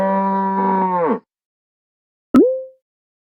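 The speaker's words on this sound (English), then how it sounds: "Cow." A cartoon cow gives a long, loud, clean moo that bends downward at the end, followed after a pause by a shorter second moo, with no other sound.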